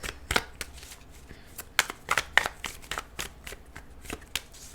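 Tarot cards being shuffled by hand in a series of sharp riffling bursts and soft slaps, close and fairly quiet, with no talking.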